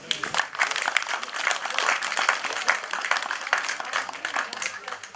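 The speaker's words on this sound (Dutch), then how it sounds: "Dus nog even een kort applaus voor Peter." A brief burst of lively, close applause from a scouting group's 75th anniversary gathering, dense clapping with individual hand claps standing out and a slight fade toward the end.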